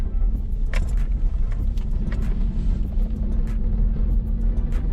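A car driving slowly over rough ground near a French village, with a constant heavy low rumble and scattered knocks and rattles from the bodywork jolting over bumps.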